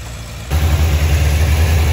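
A cheap moped engine idles steadily and loudly after a quieter opening half-second, its low rumble continuous and close with no talking.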